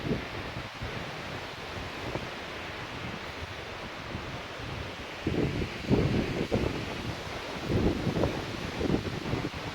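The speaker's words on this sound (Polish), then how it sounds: "Ale wichura jest." Strong, cold wind blasts across the microphone in a constant roar during a 200 km ultramarathon on the Main Sudeten Trail, with louder gusts surging in the second half; no voices.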